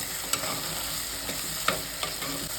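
Chopped tomato goes into hot oil in a frying pan for a Tamil kollu kara kulambu, a horse gram curry, giving a steady close sizzle with a few sharp scrapes of a spoon stirring, and no voices.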